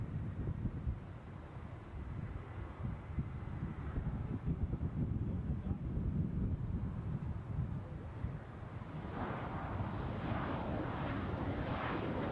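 Qatar Airways-liveried Airbus A319 airliner on final approach at Düsseldorf airport, a steady broad jet roar holding at a constant level throughout, with wind buffeting the microphone and the engine whine brightening slightly toward the end.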